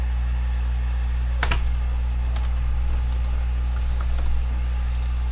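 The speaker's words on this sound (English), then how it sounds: "Are you typing something to me?" Someone types on a computer keyboard during a podcast call, producing sparse, faint key clicks in short scattered bursts over a steady background hum, with no voices.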